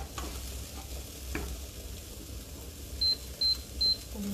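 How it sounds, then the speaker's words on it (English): Guanciale roasts in a pan with a soft, continuous sizzle and occasional stirring, joined near the end by three short electronic beeps. "Let's roast our guanciale"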